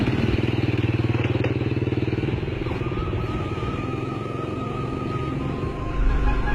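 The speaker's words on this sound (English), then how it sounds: "The men set off on scooters to seek their fortune." Motor scooters ride past with a loud, continuous buzzing engine drone, close by, with rattles and a faint whine over it.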